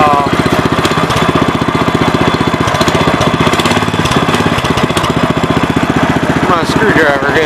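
Kawasaki-powered Gravely 5200 walk-behind tractor engine running steadily near the mic, a loud, even chugging drone with rapid regular firing pulses and clattery mechanical noise throughout.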